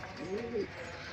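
Racing pigeons give a single soft, rising-and-falling coo, close and brief, over a steady background hiss.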